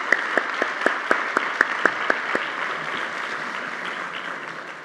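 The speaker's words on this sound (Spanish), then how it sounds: "Démosles por favor a ellos una calurosa bienvenida y un aplauso a la Universidad de la Sabana" An audience at a Universidad de la Sabana panel event claps warmly for guests, starting with sharp, distinct claps that blend into a steady round of applause and gradually fade.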